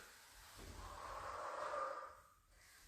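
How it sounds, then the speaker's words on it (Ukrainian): Breath taken in a double pattern during a roll exercise, a soft inhale leading straight into an exhale, close and quiet with no talk. "Тут двойне дихання. Початок вдих, продовження видих."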